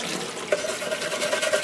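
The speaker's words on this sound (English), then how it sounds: "now I'm trying some really scalding hot water" Scalding hot water runs steadily from a tap onto a painted Philco 49-901 radio part to soften old paint, a continuous close watery hiss with faint splashing.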